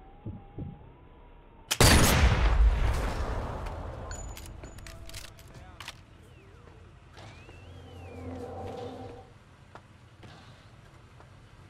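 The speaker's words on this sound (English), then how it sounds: "They do hear a gunshot, but they don't know where I am." A gunshot in a sniping video game: one sudden loud crack followed by a long fading echo and rumble, with faint game effects and chimes afterward.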